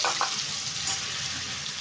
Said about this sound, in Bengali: এই কপি ডাঁটগুলো বেটে রেখেছি, সেইগুলো আমি ভাজবো